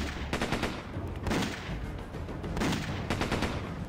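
Gunfire in the video game Dex comes as repeated bursts of rapid shots, loud and dense, with no talking.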